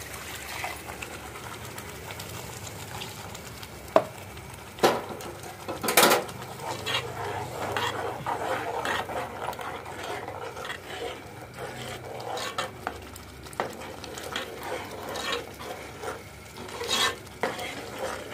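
Rajma masala roasts in a pan at home, with steady scraping and stirring over a soft sizzle and occasional sharp clinks of the spoon against the pan.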